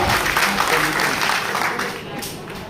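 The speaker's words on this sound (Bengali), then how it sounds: "সবাই একটা করতালি দিয়ে দেন আপনার জন্য" An audience breaks into applause at an entrepreneurs' meetup, a loud, dense clatter of clapping that fades slightly toward the end while a voice talks over it.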